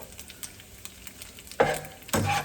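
Pasta being stirred and tossed with bacon in a hot pan for carbonara, a steady sizzle underneath with two louder bursts of scraping and frying near the end.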